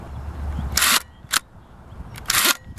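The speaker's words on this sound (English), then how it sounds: "And now when I trip it, of course you'd have everything set up, that shutter released" Graflex Speed Graphic 4x5 camera shutter tripped, sharp close mechanical snaps and clacks in two bursts, a bright click cluster followed by a brief second snap, then another double clatter, in a quiet room.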